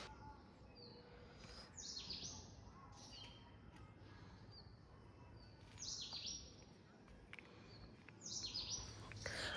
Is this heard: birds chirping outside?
yes